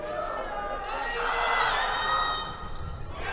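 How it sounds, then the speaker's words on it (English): A high school basketball crowd in a gym yells and roars during a free throw, swelling to a loud peak before easing, with scattered chatter and courtside noise under it. "I think that was the North Middlesex crowd that was yelling"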